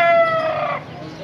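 An Ayam Cemani rooster gives a short, close call that trails off, with faint background noise after, at a bird market in Lahore.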